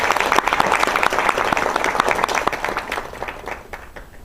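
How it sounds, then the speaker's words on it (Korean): Loud, dense applause from a seated audience welcoming a management consultant to the lecture stage at a quality-mindset seminar, many hands clapping steadily and close, tapering slightly toward the end with no voices over it. "힘찬 박수로 맞이 부탁드립니다"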